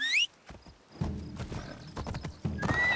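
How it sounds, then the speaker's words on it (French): A horse summoned in Assassin's Creed Shadows gives a loud, high whinny, then hooves clop and thud close by in an uneven walking rhythm, ending with another bright neigh. "Je peux appeler un cheval?"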